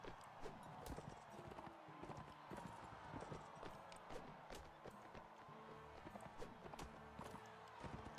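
Horse hooves in Mount and Blade Warband clop in a fast, steady rhythm of close, distinct hits, joined by busy clashing and scraping battle noise.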